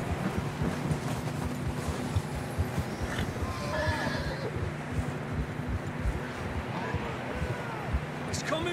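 Horses in Red Dead Redemption 2 neigh and whinny over steady clip-clop hooves, ridden along with wind and rushing ambience in a continuous loud mix.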